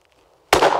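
A single loud, close shotgun blast fires at a clay rabbit target on a shooting range, a sharp sudden crack that follows a brief quiet moment.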